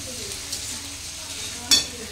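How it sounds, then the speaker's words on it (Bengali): Chicken being sautéed in a pan for a Bengali kosha, a soft steady sizzle with a few stirring scrapes, one louder clatter near the end, faint and fairly close. "এই যেখানটা হচ্ছে চিকেন কষানো চলছে, হাফ কষানো হয়েছে"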